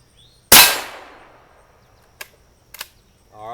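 A single sharp, loud shot from a Marlin XT22M .22 rifle rings out close by and decays over about a second. Two faint mechanical clicks follow.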